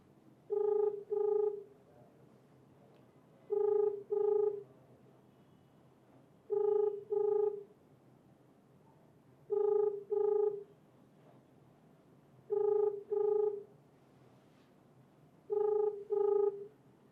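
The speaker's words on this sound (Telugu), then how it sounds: "రింగ్ అవుతుంది ఫోన్." A phone call's ringback tone sounds six times as faint double rings, each pair about three seconds apart, with quiet line hiss between.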